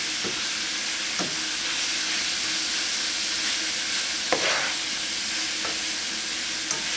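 Italian sausage frying in a pan gives a steady, dense sizzle throughout, with a few soft scrapes from stirring, close and alone without any voices.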